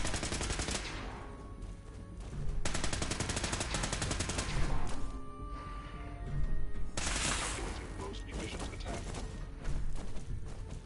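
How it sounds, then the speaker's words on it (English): Sustained gunfire from enemies in Fallout 4, dense bursts of rapid shots and thuds rolling in waves over about eleven seconds, loud and close with heavy game noise around it. "Oh, now they're gonna start shooting at me."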